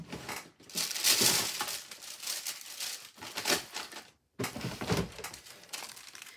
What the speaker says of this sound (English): Let me get wax paper.